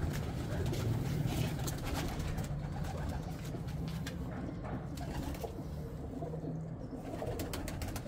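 Male pigeon cooing close by, repeated low throaty coos over a continuous hum of background noise, with no talk.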